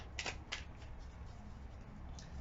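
A quick riffle of tarot cards being shuffled, two short bursts close up and quiet, then a faint soft rustle.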